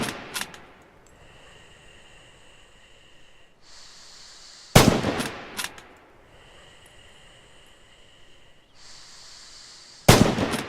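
Rifle shots ring out at targets downrange in the Red Orchestra 2 video game: three loud, sharp cracks spaced a few seconds apart, each followed by a faint bolt-action clatter and quieter tones in between.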